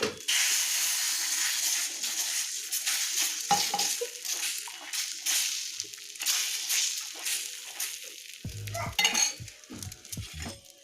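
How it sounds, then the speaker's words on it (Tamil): Beaten egg hits a hot pan for a chicken roll and sizzles steadily, close up. Scattered clinks and scrapes of a utensil against the pan come through the frying, with a busier burst of clatter near the end. "கொஞ்சமாக இதில் வந்து முட்டை ஊற்றிக்கலாம்."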